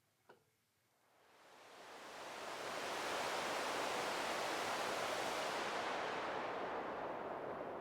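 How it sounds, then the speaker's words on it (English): A deep, rumbling synthesized noise swells in from near silence after a brief click, rising to a steady, dark, full wash that holds to the end. "So I like brown noise."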